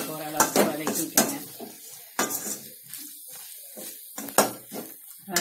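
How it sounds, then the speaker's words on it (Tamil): Chicken kurma masala being sautéed in oil in a pan, with sharp clatters of a utensil scraping and stirring against the pan between bursts of sizzling, close and fairly loud. "நல்லா எண்ணெயில் பிடிச்ச வதக்க ஒரு அளவுக்கு வதக்கி விட்டுங்க."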